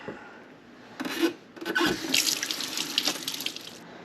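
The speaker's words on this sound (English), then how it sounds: "We're gonna wash our hands here." Hands being washed under a running kitchen tap, water gushing steadily into a sink with rubbing and splashing, close and fairly loud, starting after a brief quiet moment.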